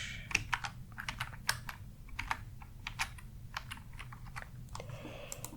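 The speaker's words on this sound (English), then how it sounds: "let's type in Snatch." Close, crisp keystrokes on a computer keyboard typing a short title into a video store's DVD search field, irregular bursts of clicks alone over a faint low hum.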